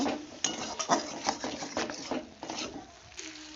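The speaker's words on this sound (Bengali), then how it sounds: "আবার আমি ভালো করে মশলাটাকে কষিয়ে নেব" Spice paste with ground coriander, cumin and a splash of water being sautéed in a pan for a flat bean dish, with repeated scraping and clinking stir strokes of a spoon against metal under a soft continuous sizzle, close and fairly loud.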